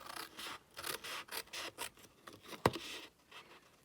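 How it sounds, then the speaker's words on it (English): Paper trimmer or scissors cutting pieces off cardstock for a craft gift box, soft rubbing slides with a sharp snip near the end, close and quiet. "And then I'm going to trim these 2 off."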